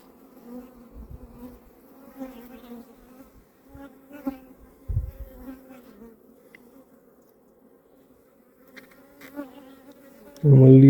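Honey bees buzz around hive frames during honey extraction, their droning hum rising and fading close by over several seconds, with scattered handling knocks and a loud rustle at the end.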